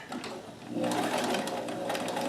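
A Kenmore 158.1914 sewing machine running stretch stitches with a stretch stitch foot, a close, continuous mechanical whirr and rapid needle clatter that grows louder after a short start.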